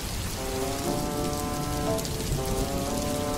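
Steady heavy rain pours down in an animated cartoon, a dense continuous hiss of drops striking surfaces, close and loud throughout.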